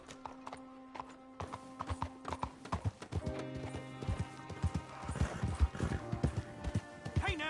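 Steady clip-clop of horse hooves at a trot in the video game Red Dead Redemption 2, with a horse whinnying near the end and low background music throughout.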